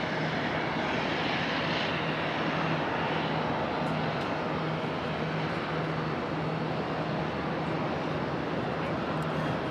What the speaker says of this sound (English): there's our Delta 717 finally taxiing up here